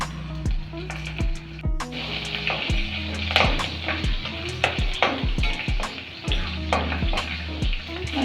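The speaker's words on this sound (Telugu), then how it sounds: "కాస్త జీలకర్ర మంచిగా ఫ్రై చేసుకోవాలి." Cumin seeds fry in hot oil for a yogurt chutney, a steady close sizzle broken by repeated loud clinks and scrapes of a spoon against the pan throughout.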